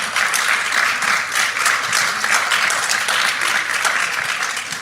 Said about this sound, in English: Please give them a round of applause for coming to join us here today.